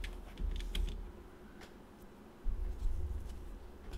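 Keys on a computer keyboard clatter in quick, irregular bursts of soft clicks with a pause in the middle, close and quiet, with no voices.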